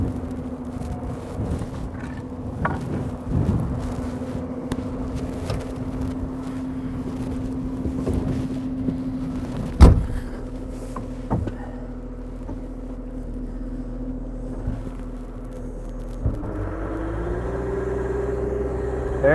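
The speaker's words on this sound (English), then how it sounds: "So let's see if we can auger some of this out." A mega mixer's auger churning asphalt out, a steady mechanical hum and low rumble with scattered clunks and a sharp knock partway through, the engine note rising and shifting near the end.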